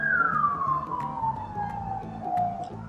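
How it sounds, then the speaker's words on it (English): An emergency siren sweeps downward as a vehicle passes close by, loud and steady against low traffic rumble, with no talking. "you'll let the sirens pass"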